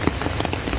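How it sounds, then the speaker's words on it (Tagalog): Heavy rain pours steadily on an outdoor children's playground at Quezon City Memorial Circle, a dense, continuous hiss of drops striking surfaces with no voices. "pagdating namin dito, ganito nakalakas yung ulan"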